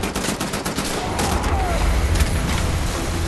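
Gunfire in the shooter Wolfenstein: The New Order: a rapid, loud stream of shots and booming impacts with a constant rattling texture, dense and close throughout.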